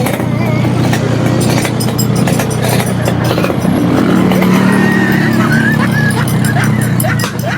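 A stock motorcycle engine idles loudly and steadily close by, a constant low throb throughout, with people talking over it.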